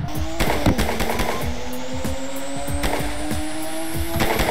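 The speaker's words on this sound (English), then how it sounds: "Two-step backfire." Rapid bursts of loud, sharp two-step exhaust crackles and pops from a 1000-horsepower BMW M4 over a revving engine held at steady pitch, continuing throughout.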